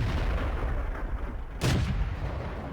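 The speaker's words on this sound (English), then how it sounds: "Intervene is firing high explosive at him now" A self-propelled artillery piece in World of Tanks fires a high-explosive shell, one sharp loud boom cutting through steady background rumble.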